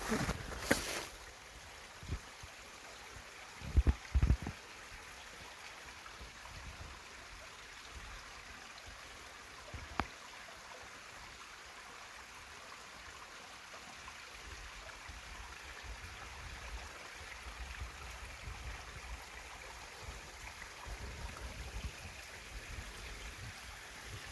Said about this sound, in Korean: 계곡 물소리 한번 들어보시죠.